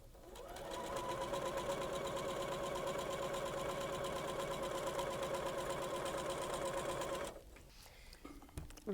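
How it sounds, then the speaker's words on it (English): Sewing machine stitching a seam across a pinwheel swirl quilt block, a steady, close, even whir running for about seven seconds before stopping, followed by faint handling sounds. "I'll just sew right across here"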